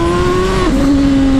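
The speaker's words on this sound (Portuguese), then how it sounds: "Não sei se deu pra ouvir aí o barulho da turbina" A Honda CB1000 turbo motorcycle emits a loud, sustained tonal whine that dips abruptly in pitch midway and then holds steady, over a rough engine roar.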